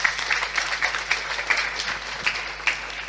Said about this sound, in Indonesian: Tepuk tangan dulu buat anak kita.